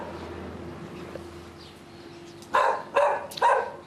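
A dog tied to a fence on a property during an SPCA welfare check gives three loud, close barks in quick succession after a stretch of quiet background hum.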